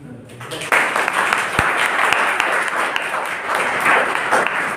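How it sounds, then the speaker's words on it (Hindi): A crowd at a gathering breaks into loud, sustained clapping for defence personnel, starting abruptly after a short quiet moment and continuing evenly to the end. "अच्छी तालियां वो भी डिफेंस के लोगों के लिए"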